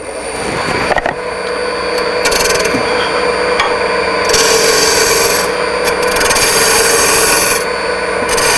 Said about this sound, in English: can use the roughing gouge just a little more to take off these rounded corners